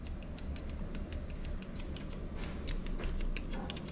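Scissors snipping hair during an undercut haircut: rapid, light, metallic snips repeating in a steady rhythm close by, over a constant low background hum.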